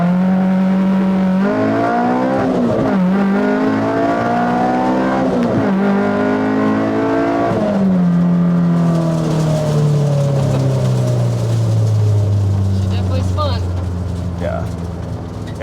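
A K-swapped Honda S2000 launching at about 3,000 RPM and accelerating hard: loud engine climbing through a few quick shifts, then a long falling drone as it backs off, with no speech over it.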